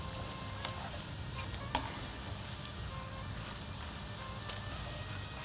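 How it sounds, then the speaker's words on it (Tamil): Food frying in a pan with asafoetida in place of ginger and garlic, a steady soft sizzle with faint crackles and one sharper pop, gradually easing off, no voices. "சலசலப்பு கொஞ்சம் கொஞ்சமாக குறைஞ்சிக்கிட்டு வருது பாருங்கள்"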